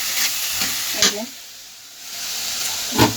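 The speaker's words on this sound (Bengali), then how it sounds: "এই যে এখানে মশলা কষাইতেছি" Masala spice paste fries in a pan at home, with a steady close sizzle and hiss and occasional stirring scrapes, no talking.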